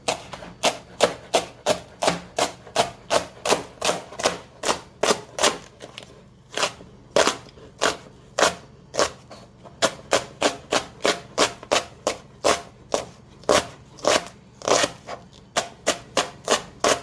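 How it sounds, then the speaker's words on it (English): Cabbage cut into julienne with a knife on a cutting board: fast, regular chopping strokes in quick runs with short pauses, crisp and close, continuing throughout with no voices. "We are going to cut our cabbage into julienne."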